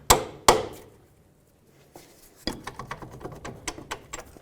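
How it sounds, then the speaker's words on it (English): A hammer knocks strut bolts out of the knuckle on a 2003-2007 Nissan Murano. Two sharp metallic clangs come first, then a pause, then a run of quicker, lighter taps and knocks, all close by. "Okay, hammer these 2 out."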